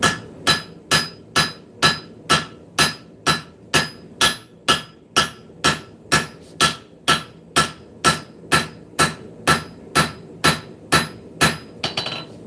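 Hammer blows on hot metal at the edge of an anvil during live forging with a bolster: about two dozen sharp, ringing strikes in a steady, even rhythm, close and loud, with no talk.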